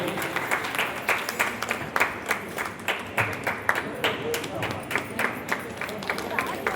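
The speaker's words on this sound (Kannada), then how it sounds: "ಎಲ್ಲರೂ ಕೂಡ ಚಪ್ಪಾಳೆ ತಟ್ಟುವುದರ ಮೂಲಕ ಶ್ರೀಗಳವರನ್ನು ಸ್ವಾಗತಿಸಬೇಕಾಗಿ ವಿನಂತಿ" An audience at a seventh anniversary function claps to welcome a guest, producing a sustained, fairly loud burst of applause with individual claps standing out in an uneven rhythm and a faint crowd murmur underneath.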